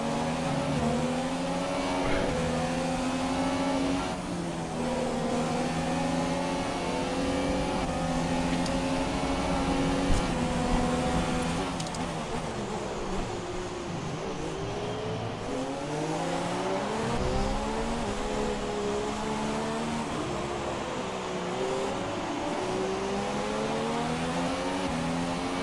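F1 race cars in the F1 2017 game on the Spain circuit, with loud engines whining and revving continuously, pitch rising and falling through gear changes as several cars pass close by.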